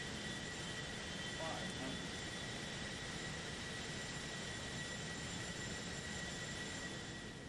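In the flight simulator X-Plane 12, the Citation X jet's engines hiss and roar steadily on landing approach, a constant broad whine throughout.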